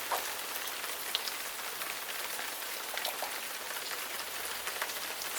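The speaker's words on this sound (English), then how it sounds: "Sophie looked up at the sky as the rain started to fall." Steady rain falls outdoors on a spring day, a continuous even hiss of drops pattering on surfaces with scattered brighter individual drop ticks, moderately loud and uninterrupted with no voices.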